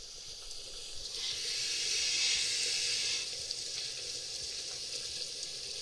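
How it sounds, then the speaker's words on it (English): Water pours in through pipes in the horror game Call of Cthulhu: Dark Corners of the Earth, a steady broad rushing hiss that swells for a couple of seconds and then eases to a constant flow. "That's pouring water in."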